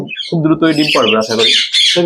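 Parrots at a large parrot breeding farm in Dhaka squawk loudly and continuously, with harsh, overlapping calls close by and no gaps of quiet.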